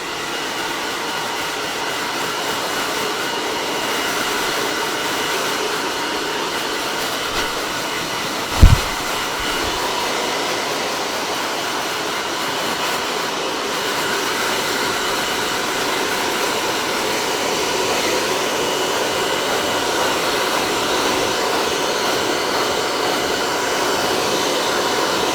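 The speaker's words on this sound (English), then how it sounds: "she's going to get a hairdryer and she's just going to blast it." A hair dryer blows at a hair salon, a steady loud whooshing roar that runs unbroken throughout with a single brief knock partway through and no talking.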